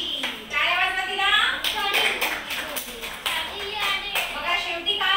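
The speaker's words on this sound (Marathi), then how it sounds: "टाळ्या वाजवा तिला" First-grade schoolchildren in a Marathi classroom clap for a classmate: a dense, rapid burst of hand claps running throughout, with children's voices calling and chanting loudly over it.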